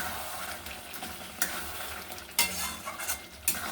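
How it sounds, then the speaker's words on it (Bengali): Fried pointed gourd and potato pieces stir in a spice paste in a pan, producing a soft, faint sizzle punctuated by a few sharper scrapes and knocks of the spoon, with no voices. "এবার ওই পটল ভাজা আর আলু ভাজাটা আমি দিয়ে কষিয়ে নেব আর একটু"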